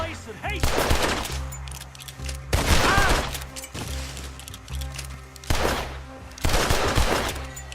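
Bursts of gunfire from the video game Red Dead Redemption 2, loud volleys in three or four clusters with short gaps, mixed with in-game sound and voices.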